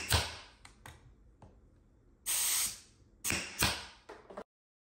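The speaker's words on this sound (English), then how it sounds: "I'm using a brad nailer. It's attached to my air compressor." A brad nailer driven by an air compressor fires several sharp pneumatic bursts into a wall during mural trim work, irregularly spaced short hisses and clacks, quiet and close.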